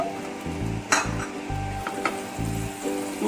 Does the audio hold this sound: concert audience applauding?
no